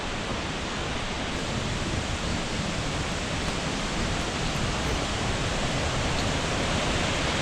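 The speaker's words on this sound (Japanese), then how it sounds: "でも音が、滝の音が聞こえてますね。" Fukiware Falls, a broad waterfall in a hiking area, sends out a steady, dense roar of rushing water that holds even and unbroken throughout, with no voices over it.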